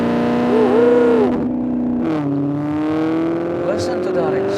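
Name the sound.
Maserati GranTurismo exhaust revving in sport mode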